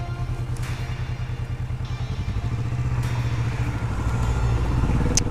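Kawasaki Vulcan S motorcycle being ridden during break-in at about 570 km, its engine held at moderate revs: a steady low thrumming drone with wind noise, rising slightly in pitch and loudness as the bike gains speed.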